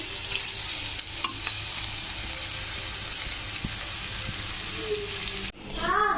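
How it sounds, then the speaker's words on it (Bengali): Onions frying in an iron wok (kadai) at home, a steady close sizzle and crackle with occasional stirring scrapes, running continuously before cutting out near the end. "এখানে দেখো পেঁয়াজটা ভাজছি আমি তো এটা আজকে লোহার কড়াতেই রান্না করছি"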